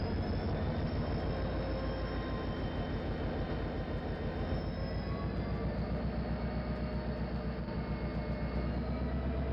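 A GP35 diesel locomotive in the Trainz simulator hauls a freight train at full throttle, its engine a steady, loud, continuous drone with rhythmic rumbling pulses running throughout.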